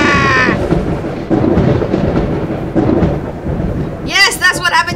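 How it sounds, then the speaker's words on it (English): Video game storm thunder, a deep sustained rumbling with rolling swells, loud throughout, with a bird-like cawing call near the end. "Lightning is brewing in the clouds."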